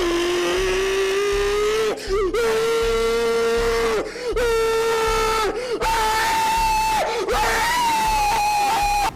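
A single voice imitates anguished screaming, sustained wailing cries broken by brief gasping pauses that rise to a higher, strained pitch near the end, loud and close throughout.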